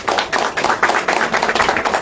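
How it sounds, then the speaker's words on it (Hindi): Audience applause in an interview setting, a crowd clapping steadily with dense overlapping hand claps throughout, fairly close and moderately loud, with no voices over it. "एक बार तालियां बजाइए इसके लिए"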